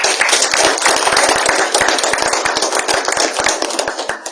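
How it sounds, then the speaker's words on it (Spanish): A crowd gives sustained applause at a book presentation in Puno, with many hands clapping in a dense, continuous patter of sharp slaps. "Fuertes votos de aplauso."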